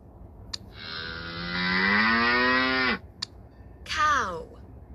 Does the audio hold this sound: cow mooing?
yes